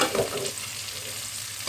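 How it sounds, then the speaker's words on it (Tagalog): Garlic, onion and bones stir-fried in a pan give a loud, close sizzle, with a louder burst of scraping at the start and again at the end. "naglagay na ako ng bawang at sibuyas. So, inimekos-mekos na natin yung buto."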